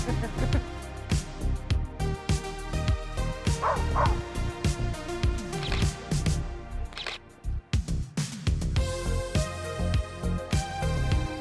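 A dog barks and yips close by in snowy Paris near Montmartre, sharp repeated barks mixed with whimpers amid busy street noise and background music.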